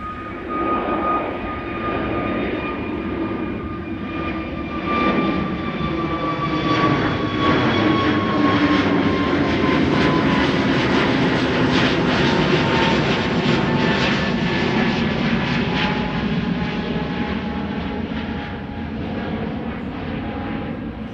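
A KLM jet airliner departing Amsterdam Schiphol for Edinburgh roars steadily and close, with whining engine tones that slowly shift in pitch as it passes, swelling midway and easing toward the end.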